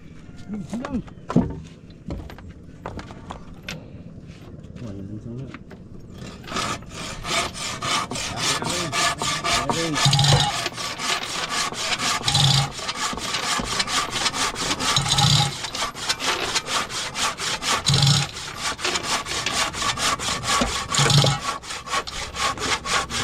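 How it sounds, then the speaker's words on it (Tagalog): A hand saw rasps through wood in steady, rhythmic back-and-forth strokes, close and loud, with voices nearby. "Gabas, lagari."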